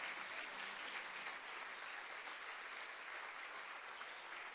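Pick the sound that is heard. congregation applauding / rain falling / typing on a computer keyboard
congregation applauding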